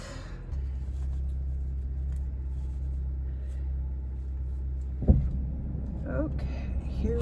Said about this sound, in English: just warming up the car a bit